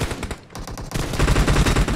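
Rapid automatic gunfire in a PUBG Mobile team deathmatch, a dense loud burst of repeated shots that grows heavier and more continuous in the second half.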